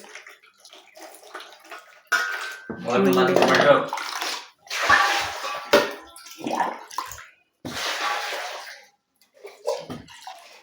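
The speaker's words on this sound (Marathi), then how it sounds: "गरम पाण्यात गॅसाक धुतात." Hot water splashes and pours over an emptied household gas cylinder in bursts of gushing water separated by short pauses, with people talking between and over the pours.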